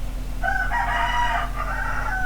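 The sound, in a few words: rooster crowing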